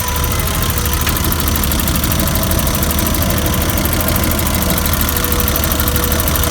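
A parked car's engine runs steadily with a rough knocking idle while being revved, after a broken cylinder-head stud and a suspected warped head or blown head gasket, with coolant leaking from under the cap; loud, continuous engine drone close by.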